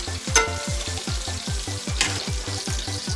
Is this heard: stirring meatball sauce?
yes